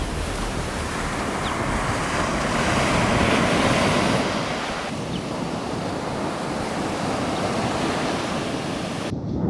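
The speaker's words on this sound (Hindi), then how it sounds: "तो भाई ये है वो समुंदर" Sea waves rolling onto the Japanese coast, a continuous roaring surf with heavy wind buffeting the microphone, loud and close.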